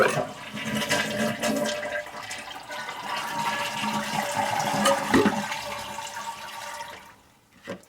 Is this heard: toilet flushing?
yes